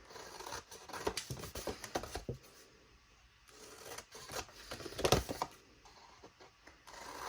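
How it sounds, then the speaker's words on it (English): Scissors snip through paper cardstock corners along score lines in a series of quick, close crisp cuts, with brief pauses and soft rustling between them. "grab your scissors and cut the corners off from score line to score line"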